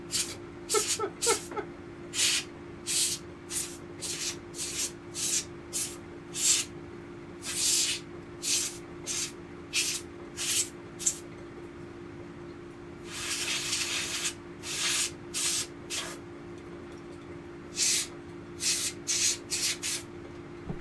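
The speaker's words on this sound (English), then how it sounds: "Just spray it with compressed air and then spray it with alcohol." Repeated short bursts of compressed air spray blasting a Gamecube circuit board during a PicoBoot install, a dozen or so sharp hissing puffs with a longer sustained blast midway, close and loud over a steady electrical hum.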